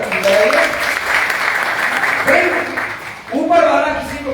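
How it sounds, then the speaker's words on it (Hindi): A seminar audience claps loudly and steadily while a voice talks over the applause. "एक बार भाई साहब की जोरदार तालियां बताइए"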